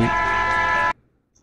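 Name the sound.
bus horn honking in video game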